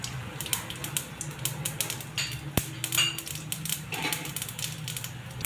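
Peanuts tipped into hot oil in a pan for poha upma, a soft steady frying hiss with scattered small clinks and taps of nuts and utensil against the pan, close and fairly quiet.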